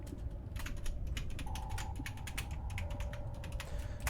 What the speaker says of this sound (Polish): Jeżeli słyszycie moją klawiaturę